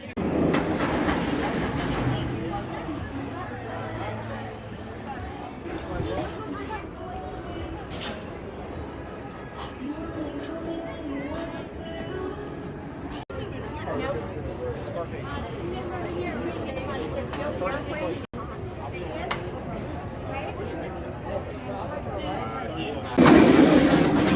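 A Great Bear B&M inverted roller coaster train at Hershey Park rumbles and roars past in a long, steady mechanical rush with clattering bursts, while people talk over it.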